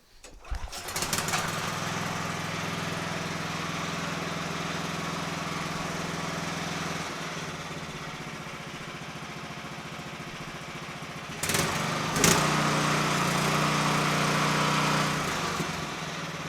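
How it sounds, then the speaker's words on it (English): A Honda GX390 single-cylinder small engine runs steadily at close range after carburetor rejetting to about a 100 main jet, a loud continuous drone that shifts pitch and speed partway through, with brief revving. "That is my final jetting. I figure it's about 100 main jet on a 61 bit."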